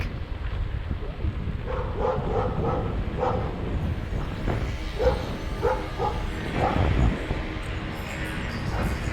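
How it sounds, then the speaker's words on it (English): A dog barks a few times at a distance over a constant background rumble, with speech faintly mixed in. "you hear a dog bark"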